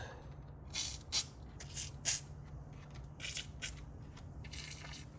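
Penetrating oil sprayed onto engine bolts on a Nissan Frontier during plenum removal, in a series of short hissing bursts, some paired and closely spaced, fairly near over a low steady hum.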